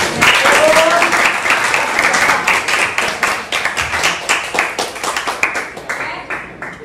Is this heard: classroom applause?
yes